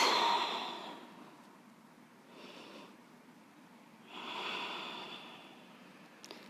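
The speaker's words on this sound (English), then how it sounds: "Deep inhales, long exhales." Slow, deep breaths during a yoga flow, several audible inhales and exhales rising and fading in soft airy waves, close and quiet with no talking.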